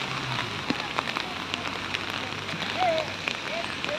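Rain falls on a busy street in Florence, Italy, a steady close patter and splash on the pavement with faint scattered clicks and distant murmuring passersby.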